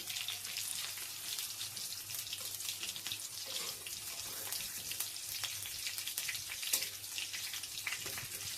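Potato pieces fry in hot oil for a chicken dish, giving a steady, faint crackling sizzle with scattered pops throughout and no voices.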